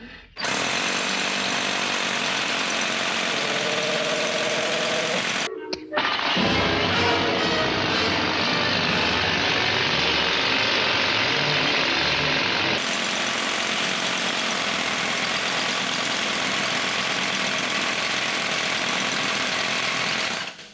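Loud, continuous hammer drill noise boring into concrete for a car lift anchor, with a dense hammering rattle, shifting in tone midway as the bit meets rebar, running nonstop without any talk.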